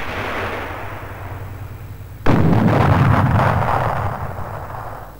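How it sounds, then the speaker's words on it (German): An automatically loaded tank cannon on a National People's Army tank of the GDR fires once with a sudden loud boom that rolls into a long rumbling echo, following a stretch of engine and wind noise. "Die automatisch geladene Kanone hat eine größere Reichweite als herkömmliche."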